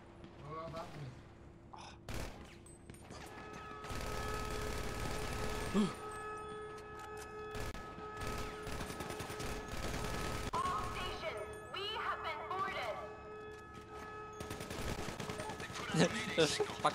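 Gunfire from a German-language action video game session: loud bursts of shots and booming impacts crowd the clip, with continuous mechanical game noise in between and a player's voice briefly reacting over it.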